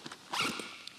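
Zipper on a musician's gig bag being opened, a brief close rasping pull lasting under a second, with a few soft clicks around it and no talk.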